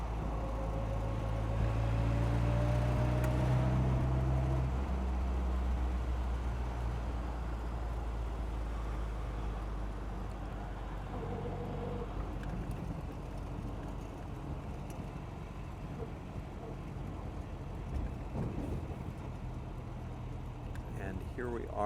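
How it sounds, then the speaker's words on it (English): A 1960 Austin-Healey Bugeye Sprite drives along with a steady low engine drone and road rumble throughout, shifting in pitch as it changes gear, while people talk over it. "thank you for driving with me today in this nice 1960 Bugeye"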